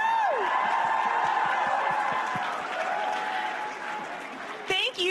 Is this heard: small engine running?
no